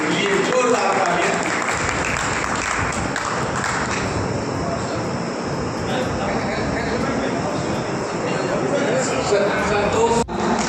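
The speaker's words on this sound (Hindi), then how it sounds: "इस कार्यक्रम में उपस्थित विजय राय के लिए जोरदार तालियां" Loud applause from a crowd at a community committee event, honoring Vijay Rai; sustained clapping fills the room steadily throughout with a busy, reverberant background.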